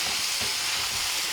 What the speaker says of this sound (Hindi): तो इसे थोड़ा और ड्राई होने तक हम फ्राई करेंगे।